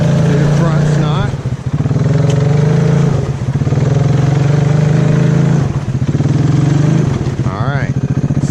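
A Honda 300 ATV engine revs hard and steady, its back tire spinning in a backyard swamp, with the drone swelling and dipping across several throttle surges while a voice talks over it.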